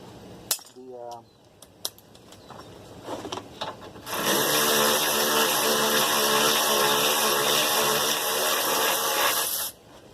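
Socket tool work on a Toyota Sienna lower control arm bolt with a short shallow 19mm socket: a few sharp clicks and clanks, then a sustained loud buzzing power-tool whir lasting several seconds; a voice speaks briefly.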